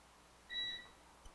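A kitchen oven beeps after preheating to 400 degrees: a single clear electronic tone held for about a quarter second, moderately loud above quiet room hush.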